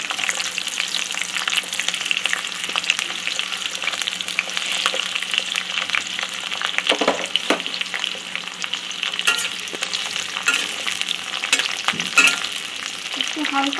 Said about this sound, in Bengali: একটু ক্রাঞ্চি করে ভাজতে হবে, একদম পুরোপুরি সফট হবে না।